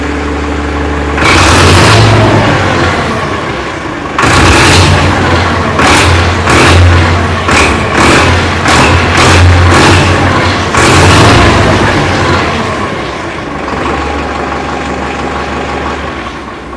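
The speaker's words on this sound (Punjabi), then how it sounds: "ਟਰੈਕਟਰ ਦੀ ਬੜਕ ਤੇ ਤੜ ਤਾਂ ਬਹੁਤ ਆ" A loud Digitrac PP46i tractor engine runs close by, revving up in repeated surges with a deep rumbling throb, then settling back to a steady idle.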